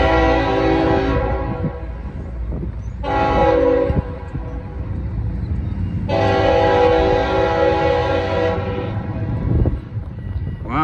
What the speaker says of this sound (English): This is a northbound train.